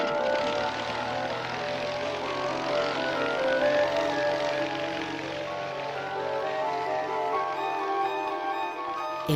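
A Santos-Dumont Demoiselle, an early light monoplane, flies past with a steady droning engine and propeller hum, fairly close and constant, swelling slightly midway, with no talk.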